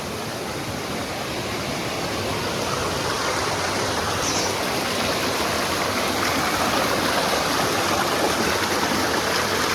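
Steady rushing water of a mountain stream flows continuously, a dense broadband wash that stays constant and close, with no voices.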